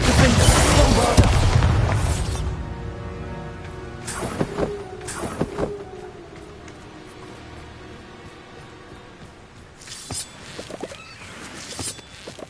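Bombarda and Confringo spell blasts in Hogwarts Legacy burst out as loud rumbling booms at the start, then sharper cracking impacts around the middle and again near the end over a steady hissing background.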